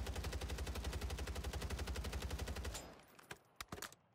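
Automatic rifle fire on a Warzone firing range, a rapid, steady burst of many evenly spaced shots lasting nearly three seconds, then a few scattered separate pops and clicks as it stops.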